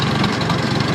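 A Farmall M tractor engine idles close by, a loud, steady, even chugging with a regular pulsing beat and no voices over it.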